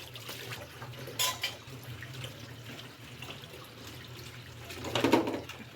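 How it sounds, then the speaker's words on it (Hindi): Water runs steadily from a kitchen tap while dishes are washed, a continuous hiss with a couple of louder splashes and faint clinks. "पानी जो है वो काफ़ी तेज़ आ रहा है।"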